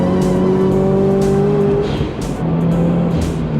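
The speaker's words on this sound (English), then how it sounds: "Just feather it on until you feel the car starting to slide." A Subaru slides sideways at a car meet, its engine droning loudly with tires squealing through the slide, close and continuous throughout.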